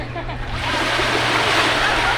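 Ocean waves wash onto a beach at sunset with a broad, steady surf roar that swells and holds, close by, with faint voices of young people shouting mixed underneath.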